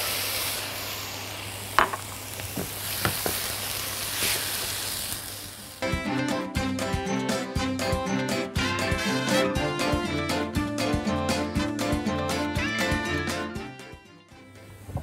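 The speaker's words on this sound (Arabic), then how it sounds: "بعد كده نحط الطماطم." Tomatoes sizzle in a frying pan while a steak sandwich is being made. A soft, steady hiss is heard alone for several seconds before music takes over the rest of the clip.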